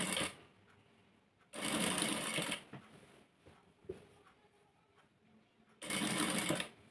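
A sewing machine stitches piping around a blouse neckline in two loud, fast whirring bursts separated by quieter pauses with faint handling clicks.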